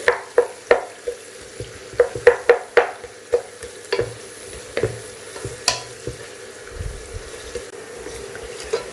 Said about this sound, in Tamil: லோ டு மீடியம் ஃப்ளேமில் வச்சுட்டே வதக்குங்க.